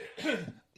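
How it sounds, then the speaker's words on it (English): A single short cough from a man who is under the weather, quiet and close, a brief harsh burst lasting under a second. "I'm not sure if that was me coughing."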